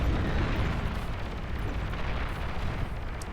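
Banisher artillery fire pounds a Razorback unit in the strategy game Beyond All Reason, a dense rumbling barrage of low booms and blasts blending into continuous heavy noise.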